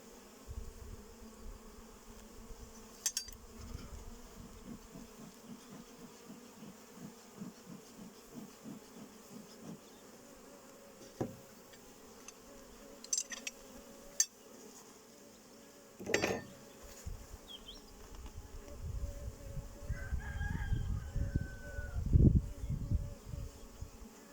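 Honeybees hum at an opened hive during a springtime inspection, a low, steady buzz with faint pulsing tones close by. It is broken by a few sharp clicks and knocks of hive gear, and the buzz swells louder near the end.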